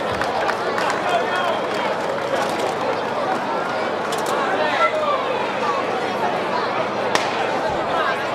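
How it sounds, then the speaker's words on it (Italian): An outdoor festival audience in Ottana applauds performer Antonio Mastio, a dense and sustained wash of clapping with crowd chatter throughout and a host's voice over it. "un applauso a Antonio Mastio"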